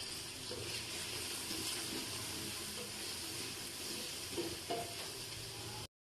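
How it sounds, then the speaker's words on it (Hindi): A masala of tomatoes, salt, chili, turmeric and dried coriander powder fries steadily in a pan, giving a continuous broadband sizzle with faint clinks of stirring, close and without talk, briefly cutting out near the end. "ये देखिए मसाला अच्छी तरह मैंने भून लिया है।"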